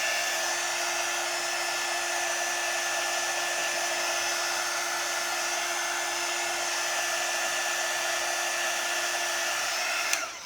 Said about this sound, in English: I think I want to plug in my other heat gun.